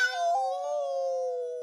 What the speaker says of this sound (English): How do those cats Socrates and Nostradamus communicate? I mean, does meow mean more than one thing